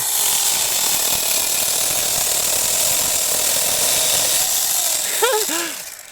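A Konsun cordless saw cutting through a tree branch outdoors, a loud, steady high buzzing whine that holds for several seconds before winding down at the end.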